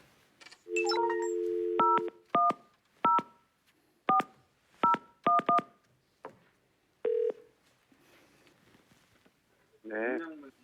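A series of telephone keypad tones beeps out one by one in an uneven rhythm on a Korean TV talk show, followed by a short ringing tone near the end.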